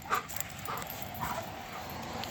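A giant schnoodle dog outdoors on a rainy day gives a few faint, short barks and whimpers against steady background noise.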